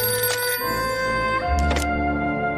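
A telephone rings loudly in a cartoon scene, a bright electronic bell trilling steadily and close, with a soft thunk partway through and no talking.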